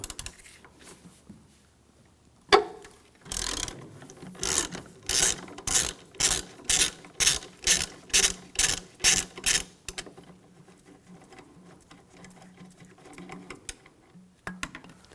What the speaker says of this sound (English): Use a 13mm socket. Take these 2 bolts out.